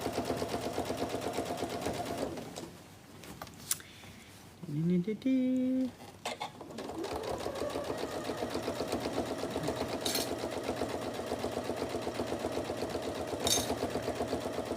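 A sewing machine stitches around a tote bag in a steady, even whirr, close by, pausing briefly midway before running on evenly.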